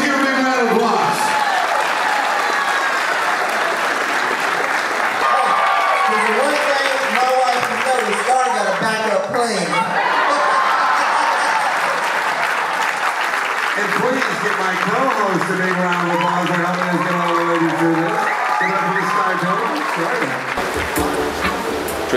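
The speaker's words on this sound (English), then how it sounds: "Please give a big round of applause." Applause from a wedding audience at a celebration aboard a cruise ship, a steady sustained clapping that fills the space, with voices talking and tonal sounds mixed in throughout.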